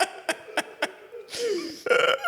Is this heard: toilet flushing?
no